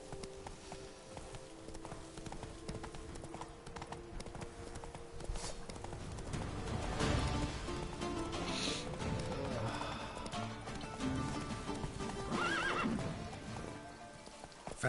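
A horse gallops in The Witcher 3: Blood and Wine, its rapid hoofbeats clip-clopping continuously over game music and ambience, with a whinny or neigh breaking through near the middle.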